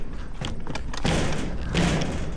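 Dirt bike handlebars, bent in a crash, are banged back into place with a series of dull, close thuds and knocks, a few spaced hits followed by heavier, rougher impacts.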